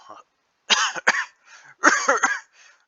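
A voice coughs several times in short, raspy bursts, close and clear, like a staged or acted cough.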